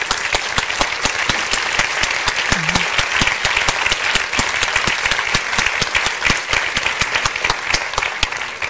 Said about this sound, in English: I would like just a very nice and warm applause to all the jury members that are here